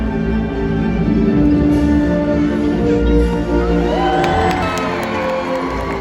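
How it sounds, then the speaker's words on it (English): An audience at a SeaWorld orca show cheers and whoops loudly for a killer whale named Katina as she breaches, a sustained crowd roar with shouts and children's voices over background music. "let's give her a great big cheer"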